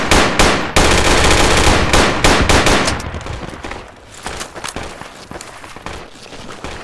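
Heavy automatic gunfire in the tactical shooter Project Reality, loud sustained bursts at first that break into scattered shots and rattling fire, some nearer and some farther off.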